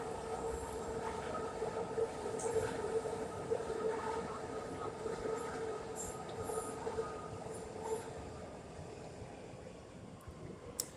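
A train rumbles past overhead, steady and loud with rattling wheels and faint metallic squeals, slowly fading toward the end.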